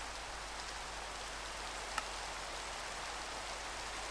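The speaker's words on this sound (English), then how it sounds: "Every time I tune in here with Minecraft, there is rain." Steady rain hisses evenly and softly throughout in the video game Minecraft, with a single faint click near the middle.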